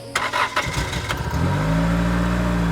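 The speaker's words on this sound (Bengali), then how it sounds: "অটোতে স্টার্ট দেয়" An auto-rickshaw engine starts up: several quick cranking bursts and sputters give way to a steady, close, droning idle that settles into a constant hum.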